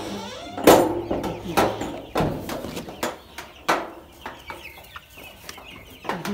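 Chickens in a poultry farm shed holding around fifteen hundred birds during winter cluck and squawk close by, sharp calls repeating every second or so over a steady murmur of the flock.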